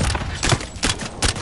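Bursts of video game gunfire ring out in about four loud, evenly spaced volleys, each a sharp cluster of shots with brief gaps between.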